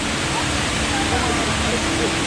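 An indoor waterfall at Singapore's airport pours as a dense, loud, continuous rush of falling water that fills the whole space without a break.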